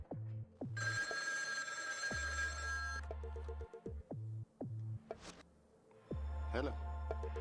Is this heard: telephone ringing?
yes